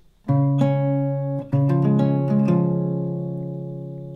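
An acoustic guitar chord rings out, followed by a few single plucked notes and another chord that sustains and slowly fades, alone with no talking.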